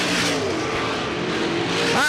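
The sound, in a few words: race cars on a dirt speedway track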